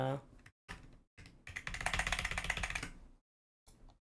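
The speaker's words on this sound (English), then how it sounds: "my keyboard inputs are very loud now for some reason" Fast typing on a loud computer keyboard during a gaming session, dense clattering keystrokes in short bursts, with one sustained flurry in the middle, close and fairly loud.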